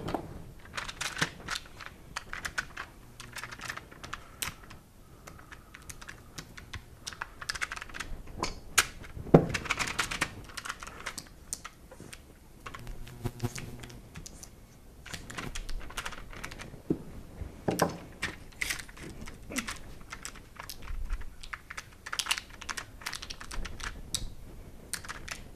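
Someone programming a heat-treating oven on its keypad: a long run of light, quick button presses in irregular bursts, close and fairly quiet, with no voices.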